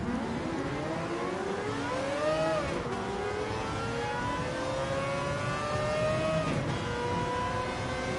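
Honda NSX race car engine in Gran Turismo 7 during a Spa endurance race, a steady loud drone whose pitch climbs through the gears with two brief dips at shifts, rival cars audible underneath.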